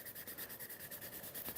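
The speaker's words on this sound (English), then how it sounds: "We're just kind of polishing that surface." Polishing the surface of a leather wrap on a tool handle: soft, rhythmic rubbing strokes back and forth at a quick, even pace, faint and close, with nothing else heard.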